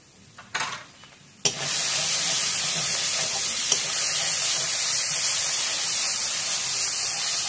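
Potatoes and eggs sautéing in a pan with turmeric and salt: a few clinks and stirring sounds, then a loud, steady sizzle that holds throughout.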